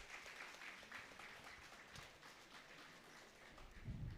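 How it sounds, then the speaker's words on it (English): Conference audience claps in a steady, distant round of applause, a soft continuous patter with no voices over it. "Please give a huge round of applause."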